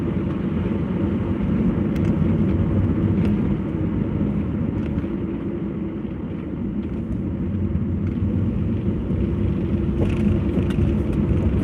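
A car engine idling at a very low, unsteady speed, producing a continuous low rumble with faint interior noises and no speech.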